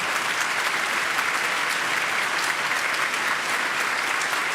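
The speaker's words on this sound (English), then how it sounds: "if you could give Phil a big hand" An audience at a Christmas choir concert gives a sustained, dense round of applause, steady and fairly loud throughout with no talking over it.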